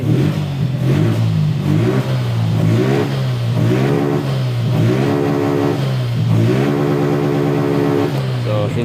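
A motorcycle engine near a motorcycle shop in Surigao del Norte revs close and loud, climbing and falling in repeated throttle pulls over a steady idle, with voices faintly underneath.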